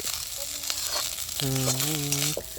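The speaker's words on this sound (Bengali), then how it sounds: "আমাদের ভাত ভাজা" Oil sizzles steadily as rice fries in a pan outdoors in a forest, with a brief voice speaking over the crackle partway through.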